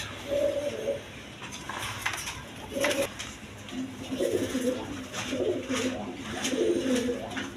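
Pigeons at a pigeon-breeding farm, including quality double-bar birds, coo repeatedly in short rounded phrases over a steady background hum, fairly close and moderately loud.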